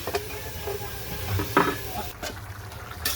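Bottle gourd and shrimp curry stirred in a pan, soft wet scrapes and sloshes of a spoon through the liquid curry over a low simmering sizzle, close and moderate, with a couple of sharper clinks.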